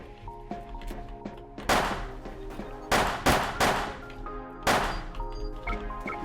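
Pistol gunfire in the online shooter Wolfteam: several sharp, loud shots spaced a second or so apart, some in quick pairs, over a steady bed of game music and tones.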